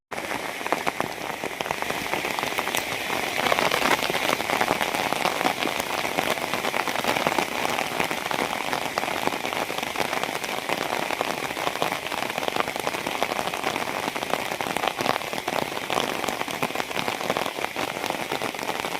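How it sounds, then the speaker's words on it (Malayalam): Steady rain falling and pattering on surfaces, a dense, continuous hiss with scattered louder drops, unbroken for the whole stretch with no voices. "ഇപ്പോൾ മൊത്തം മഴ തന്നെയാണ്"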